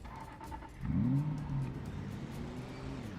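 A car engine strains in Project Zomboid, the video game, beginning as a low idle, then surging into a brief louder whining rev before falling back to a rough, steady running drone.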